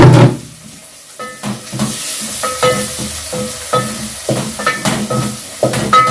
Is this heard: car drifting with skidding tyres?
no